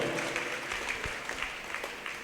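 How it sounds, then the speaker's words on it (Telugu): A church congregation claps loudly together at a testimony gathering, a dense, continuous burst of applause filling the space with a few voices mixed in. "గట్టిగా చప్పట్లు కొట్టి గట్టిగా దేవుని మహిమ పొందుదాం"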